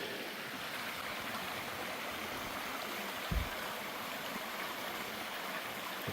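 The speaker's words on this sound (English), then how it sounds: "The creek." A creek in Lithia Park flows in a steady, even rush of water, constant and moderately close, with no voices and only a brief low thump partway through.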